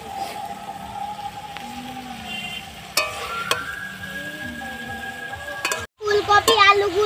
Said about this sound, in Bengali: ফুলকপি আলুগুলো একটু কষিয়ে নিলাম।